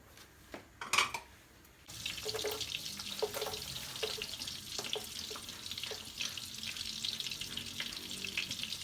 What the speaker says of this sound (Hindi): हम लहसुन को फ्राई करेंगे।